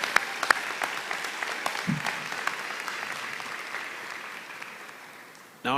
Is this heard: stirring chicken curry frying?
no